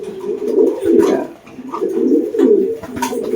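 Young racing pigeons, small to medium birds, coo repeatedly up close as they are handled, with a throaty rolling rhythm that pauses briefly and resumes.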